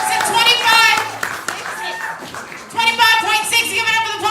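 Audience at a poetry slam clapping for a poet after the scores are read, steady applause throughout while a host's voice talks loudly over it.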